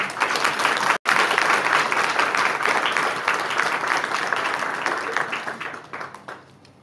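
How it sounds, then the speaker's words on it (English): Audience at a school board meeting gives students a warm round of applause, a dense wash of clapping that holds steady, then gradually thins and fades out toward the end. "So another round of applause for them."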